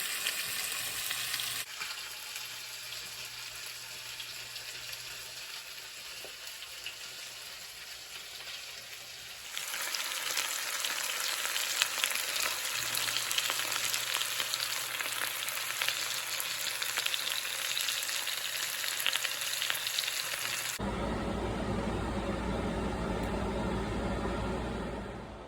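Food fries in an uncrowded pan, crisping up with a steady sizzle. The sizzle grows louder partway through and then shifts to a lower rumble near the end, with no talk.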